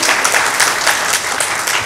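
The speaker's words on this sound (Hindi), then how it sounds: "जोरदार तालियां होनी चाहिए उन कंपनीज के लिए" Audience applause for the companies at an event with the Director General of the Pakistan Environment Protection Agency, a dense, steady clapping from a crowd throughout, loud and close with no talk over it.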